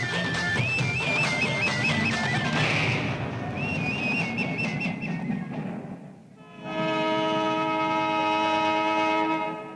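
A train pulling away sounds a long warbling horn blast, then after a brief lull a second sustained multi-tone horn, close and loud over rumbling rail noise.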